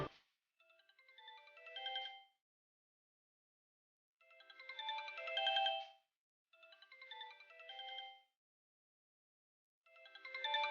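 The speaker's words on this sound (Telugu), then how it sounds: "ఇదేంటి, చిట్టెమ్మ ఫోన్ చేస్తుంది?" A phone rings with an incoming call, playing a melodic electronic ringtone in four separate bursts with silent pauses between them, clear and alone.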